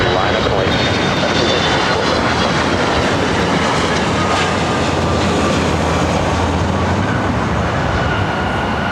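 An Embraer 175 jet on final approach at LAX, a loud, dense, continuous engine roar filling the scene at close range with no break.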